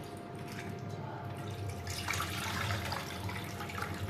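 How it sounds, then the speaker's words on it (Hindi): Mutton trotter broth (yakhni) for paya is poured through a strainer, a steady close splashing and trickling that swells slightly partway through. "चले तो अब इसे छान लेंगे अच्छे से इस तरह से।"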